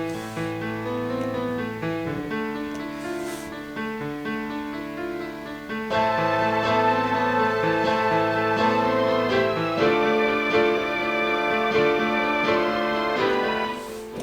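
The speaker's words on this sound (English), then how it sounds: "The outro, I normally just play the melodies, the music, without playing the drums." A trap beat outro built in FL Studio plays melodic synth lines alone without drums, a steady looping pattern of sustained tones and repeating phrases that thickens partway through, with no voices.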